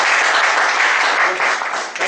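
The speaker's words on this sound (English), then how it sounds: "So shall we give both of them a round of applause?" Members of a speakers forum meeting give the two speakers a loud, close, continuous burst of applause that dips slightly just before ending.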